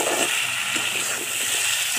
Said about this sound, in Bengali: সব দিয়ে আমি কষছি।